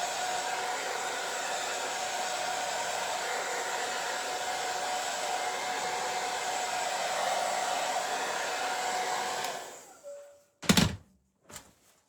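A hair dryer blows steadily for about nine seconds to dry wax on a tabletop beehive, then switches off, followed by a couple of sharp thunks.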